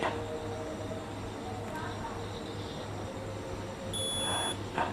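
A tester beeps while probing a diode in a faulty UPS that will not hold charge, a steady repeating tone over a background hum, with no speech.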